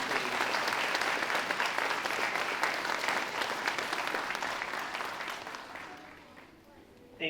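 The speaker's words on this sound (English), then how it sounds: "So let's give a round of applause to our fourth graders, please." Fourth graders receive a long, dense round of applause from an audience at a school program, steady and loud before gradually thinning out toward the end.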